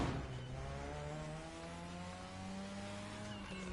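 An Audi Onitron electric car drives in The Crew Motorfest, a steady rising whine with a tonal hum and light tire noise, close and continuous without talk.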